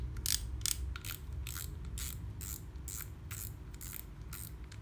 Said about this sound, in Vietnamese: Đây là tiếng lưỡi gà của máy.